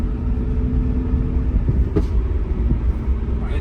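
Manual-gearbox BMW M3 F80 fitted with Eventuri intakes, heard from inside the cabin: a steady, loud low engine rumble with a faint rise under gas and a couple of light knocks.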